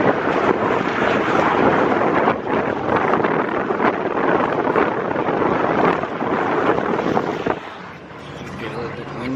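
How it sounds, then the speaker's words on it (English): Strong, steady wind buffets the microphone with a loud, continuous rumble throughout, easing slightly near the end. "Get a little bit windy."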